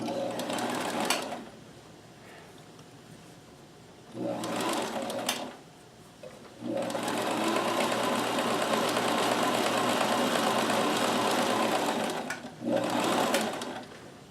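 A Kenmore 158.1914 sewing machine sews a long stretch stitch in several runs: two short bursts separated by pauses, then a long steady hum of stitching lasting several seconds, and a final short burst, close and clear.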